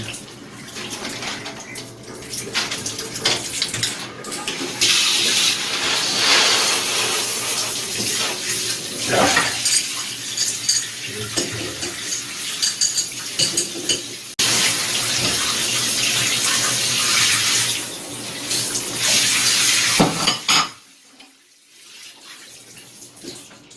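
Water runs steadily from a newly replaced bathroom shower faucet, a broad hiss with shifting intensity for about twenty seconds before cutting off abruptly.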